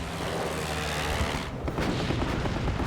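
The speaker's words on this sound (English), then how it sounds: "Bismarck's anti-aircraft gunners desperately filled the sky with flak." Anti-aircraft flak fire from the German battleship Bismarck in World War II, a dense continuous roar of gunfire and bursts with rumbling booms, loud and close, no voices.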